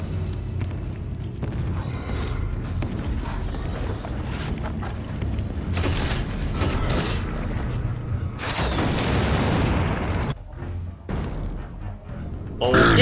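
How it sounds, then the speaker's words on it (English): Boomshot explosions roar on the Insane campaign difficulty of Gears of War Ultimate Edition, heavy booms and rumbling blasts over constant combat noise, with a person talking through the action. "about to get wrecked by boom shots"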